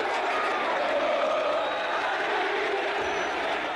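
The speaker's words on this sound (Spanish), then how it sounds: "Por eso explota la gente" Football crowd at the Nuevo Gasómetro, San Lorenzo's stadium, roaring in a dense, sustained wash of voices that sounds like shouting and chanting, loud and steady throughout.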